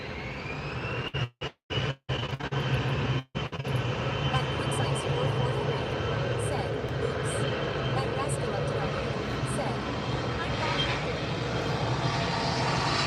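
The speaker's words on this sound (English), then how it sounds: "The airplanes don't let me hear." Airplane engines drone steadily overhead for a long stretch, a broad, even roar with a few brief dropouts near the start, fairly distant and constant.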